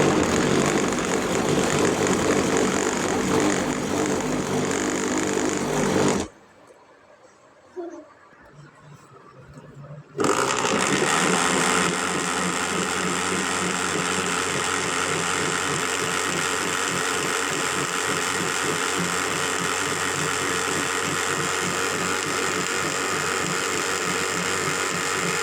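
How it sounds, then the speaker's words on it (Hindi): Juicer blender whirring loudly as it blends peach juice with sugar and salt, a steady motor roar that cuts out for a few seconds of near silence, then starts again and runs evenly to the end. "जूसर ब्लेंडर को चला लेंगे।"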